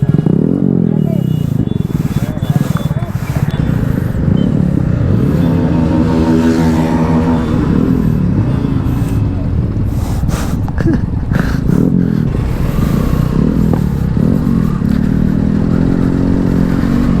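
Motorcycles rev loudly and close as a bikers' group ride gets underway at a meetup, with engine pitches sweeping up and down over dense crowd and traffic clatter.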